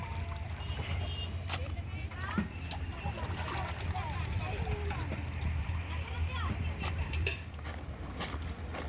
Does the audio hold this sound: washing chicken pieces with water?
yes